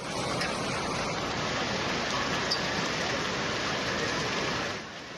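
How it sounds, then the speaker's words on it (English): Heavy hail up to three centimeters across pelts down during a hailstorm in Chandigarh, India, a dense, loud, continuous hiss and clatter that stays steady before easing slightly at the end. "there was heavy hail"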